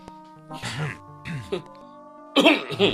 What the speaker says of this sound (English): like you have a cough